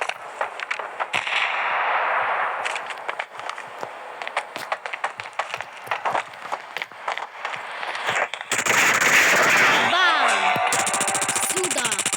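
Shots from a weapon in the mobile shooter Standoff 2 crack in rapid, uneven bursts over game noise, growing into a denser, louder barrage near the end.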